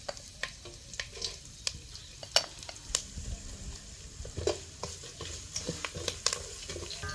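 Mustard seeds and cumin tempering in hot oil, crackling and popping in quick irregular bursts over a steady low sizzle, close and fairly loud.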